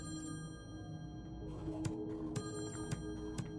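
An old-style telephone bell rings in the horror puzzle game Slayaway Camp, a quiet bright trill over a soft backdrop, followed by several sharp, evenly spaced clicks.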